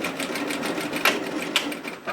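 An industrial sewing machine runs a seam across fabric from edge to edge, a fast, steady, close-up whirring chatter with two brief louder clicks.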